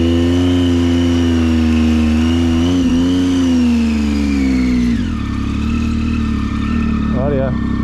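A motorbike engine revs loudly and close by during a push start on a dirt road trip with river crossings. The engine pitch climbs and then drops away, and voices are heard near the end.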